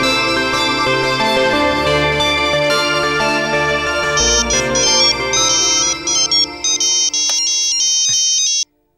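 A phone ringtone plays a loud, bright melodic tune for an incoming call in a Tamil TV serial, continuing for several seconds before cutting off abruptly.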